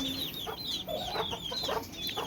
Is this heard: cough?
no